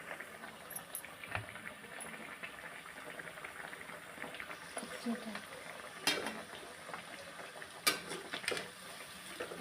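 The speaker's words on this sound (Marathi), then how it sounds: "आपलं तळायचं पण काम चालू आहे हे पहा आपण आता तेलामध्ये वडे टाकलेले आहेत" Sabudana vadas sizzle in hot oil with a soft, continuous crackle and bubbling, punctuated by a few sharp clinks of a utensil, fairly quiet overall.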